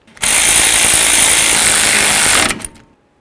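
A power wrench drives caliper bracket bolts on a 1994-2004 Chevy S-10 in one loud, close, continuous buzzing run of about two seconds that stops abruptly, with no talk.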